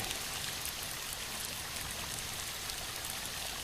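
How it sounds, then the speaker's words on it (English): A waterfall roars as a constant, dense wash of falling water, heard from a moderate distance, steady and unbroken with no voices. "Alan, I think this is the waterfall that Walter mentioned before we lost contact."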